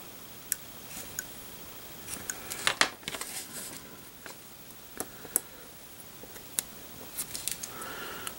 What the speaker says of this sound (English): And I'm actually going to cut 2 of these in half.